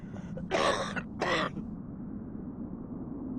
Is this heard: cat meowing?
no